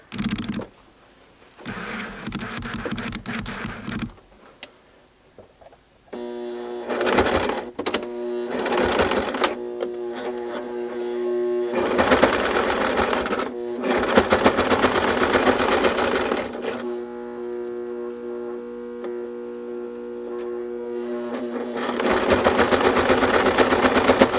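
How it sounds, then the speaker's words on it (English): A sewing machine stitches along a pressed ironing line on a doll quilt, running in several sustained bursts of steady motor whir with short pauses between, close and loud with no talking. "And now we're going to sew that same ironing line."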